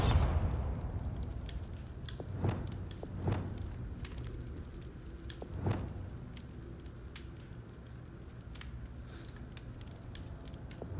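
The Bombarda spell in the Hogwarts Legacy video game sets off a burst and low rumbling boom, followed by several more sharp impacts and crackling debris, with combat effects spread across the stretch.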